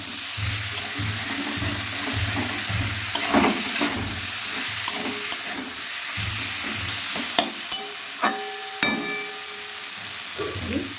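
Ginger garlic paste fries with potatoes in a pan, giving a continuous close sizzle broken by rhythmic scraping of a spatula stirring the mix, then a few sharp metallic clinks toward the end.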